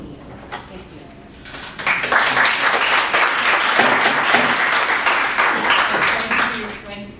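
An audience claps steadily at a public hearing in a Beacon Hill joint committee room, sustained loud applause lasting several seconds after a testimony ends.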